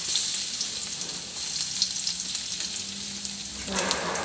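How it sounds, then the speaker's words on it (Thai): Garlic stir-fried in hot oil in a wok for a home-style pork and eggplant dish, giving a steady, close, bright sizzle with faint scraping that swells louder near the end. "ผัดกระเทียมให้หอมจ้ะพี่น้องจ้า"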